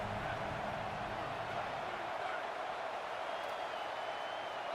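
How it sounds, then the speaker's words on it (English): A home crowd in a football video game roars loudly and without a break, a dense wash of cheering that holds through the whole stretch. "And how nice is it to have the home crowd going absolutely bananas?"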